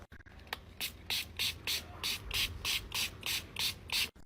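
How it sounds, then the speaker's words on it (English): A spray bottle spritzes water about a dozen times in a steady rhythm, each short hissy burst close and clear, with brief pauses between. "I just sprayed it with water"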